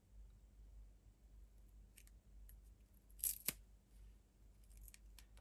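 A couple of quiet scissor snips close by, trimming a reinforcing strip for a slot car interior, with a few faint clicks around them in a hushed room.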